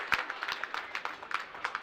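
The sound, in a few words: crowd cheering at an ice hockey game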